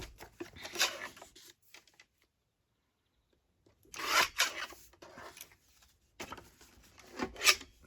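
Paper being trimmed for a craft collage, heard as close, soft rasping snips and rubs in short bursts with a quiet pause in the middle.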